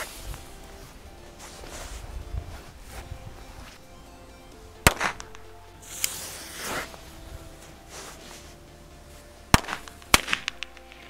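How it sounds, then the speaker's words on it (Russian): A Korsar 3A firecracker goes off outdoors with sharp, loud bangs: one around the middle, then a close pair of cracks near the end, with soft rustling and handling noises in between. "Корсар 3А взрывается два раза"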